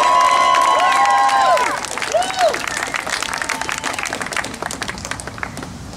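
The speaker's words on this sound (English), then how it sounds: "they deserve a round of applause for that" Crowd at a healthcare rally breaks into loud applause and cheering, with a dense burst of clapping and whoops that fades to scattered claps, and a voice briefly rises above it.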